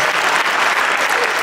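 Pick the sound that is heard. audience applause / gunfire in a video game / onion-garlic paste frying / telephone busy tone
audience applause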